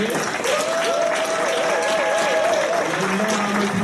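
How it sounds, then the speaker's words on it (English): Crowd applause and cheering at a university summit, dense and continuous, with a voice calling out over the clapping near the middle. "let's give a big, not small, but big UHCL Hawks applause for the steel band players over here"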